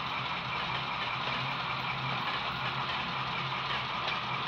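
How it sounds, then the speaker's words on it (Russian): A Russian train speeds up in a video game, giving a steady low rumble of engine and rails that holds even and moderately loud throughout, with no talking. "как наши поезда русские ездят быстро"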